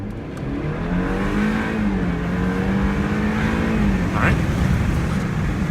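2013 BMW 328i accelerating on a road test, a steady engine drone rising and holding in pitch from inside the car, with road noise underneath and no talk.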